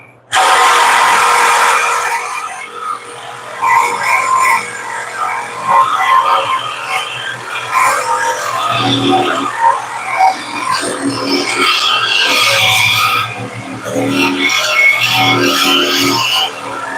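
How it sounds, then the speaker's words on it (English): A power tool grinds and cuts through a thick chunk of weld on a vehicle exhaust, a loud, harsh, continuous whine with shifting pitch and rattling bursts over about seventeen seconds. "I'm cutting through a big chunk of weld if you're wondering what's taking so long."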